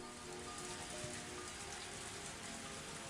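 Rain falls steadily in the visual novel game Higurashi, a constant, soft, dense patter with no other sounds.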